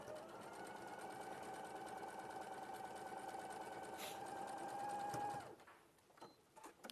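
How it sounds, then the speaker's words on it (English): A sewing machine runs steadily through pinned fabric with a continuous whirring, rhythmic stitching drone for about five seconds, then stops, leaving faint handling noises. "just to stop it moving as I sew"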